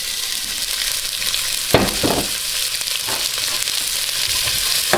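Onions, garlic and ginger sizzle steadily in hot oil in a pan, a loud continuous hiss with a couple of scraping stirs partway through, close up and with no talking.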